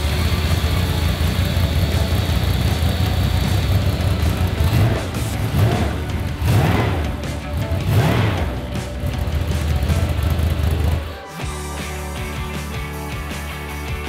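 A car engine fitted with Sniper EFI and a Hyperspark ignition runs loud and steady on a test stand, with a few rising revs midway before it cuts off abruptly, leaving a lower hum.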